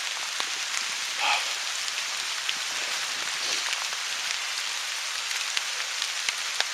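Rain falls in the woods, a soft, steady patter of scattered drops ticking on leaves and surfaces, fairly faint and without voices.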